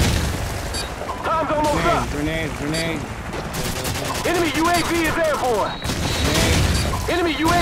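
A grenade explosion in a video game lands amid loud ongoing gunfire, with heavy booms breaking through the battle noise while voices call out over the action.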